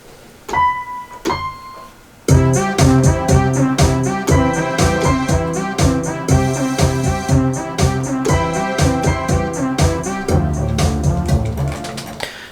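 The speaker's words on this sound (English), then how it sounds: "acoustic piano, and it's called Fosterized" An acoustic piano virtual instrument patch named Fosterized in Pro Tools plays two lone notes, then a steady rhythmic chordal pattern of repeated struck chords over a bass line, clear and close with no talk.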